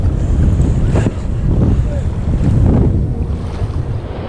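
Gusting wind buffets the microphone over choppy surf slapping around a small boat on open water, a loud, steady roar with brief swells of louder gusts.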